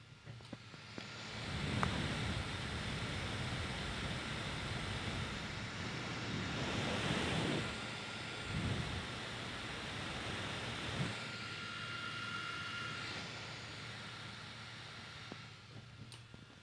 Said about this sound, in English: So this is probably about maximum fan noise at the moment.